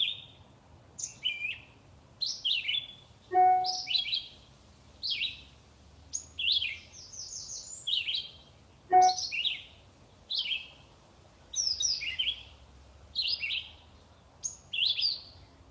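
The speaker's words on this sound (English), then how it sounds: "The bird sounds very much like a robin. There's a measure of notes and then a measure of rest." Wild bird song resembling an American robin: phrases of high whistled notes alternating with short rests, repeated on and on, clear and moderately near, with a couple of short lower calls mixed in.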